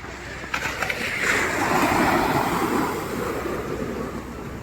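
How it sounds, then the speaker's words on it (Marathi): Soft, steady wash of sea waves rolling in at Shrivardhan beach, a broad hiss that swells and fades gently with no voices. "लाटा हळूहळू येत आहेत अलीकडे"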